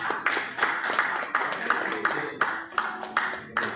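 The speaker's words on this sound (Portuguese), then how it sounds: "Dê uma salva de palmas em nome de Jesus." Congregation in a church service clapping along in a steady rhythm, sharp claps landing roughly every half second over a busy, reverberant room wash, loud and close.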